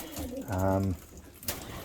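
Red pigeons give a short, close coo, a single rounded call under faint background noise.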